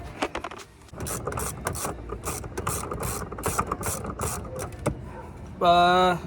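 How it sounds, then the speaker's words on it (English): Bolts holding the master cylinder are removed on a 2007-13 Chevrolet Silverado during brake booster work, giving a run of quick ratchet clicks and metallic mechanism sounds close by, followed by a short tonal squeal at the end. "Now, time to remove these bolts right here. There's 2 of these holding this master cylinder"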